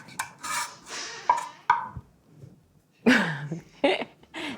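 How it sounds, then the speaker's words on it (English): A squeaky household door being opened gives off creaking, wavering squeals in two bursts, close by, separated by a short quiet gap. "That's my child opening the door. I guess I need to WD-40 my door."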